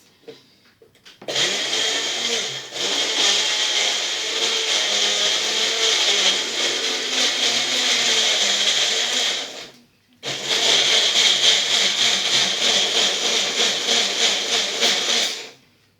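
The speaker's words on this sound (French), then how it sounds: "Alors je mixe." An electric blender whirs loudly while mixing a milkshake, a steady high-pitched motor roar that runs for about eight seconds, cuts out briefly, then resumes for several more seconds before stopping.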